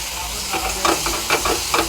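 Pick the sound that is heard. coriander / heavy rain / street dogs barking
coriander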